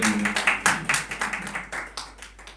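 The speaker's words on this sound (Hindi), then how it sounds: "जोरदार तालियां।" Listeners at a poetry recital give scattered applause for a poem, a handful of distinct claps in an uneven, fading rhythm, near and fairly clear.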